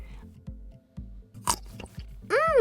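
Crunchy bites into crispy waffles at a taste test, a few short crisp crunches spaced out over about two seconds, close to the microphone, followed by a brief high-pitched squeaky sound.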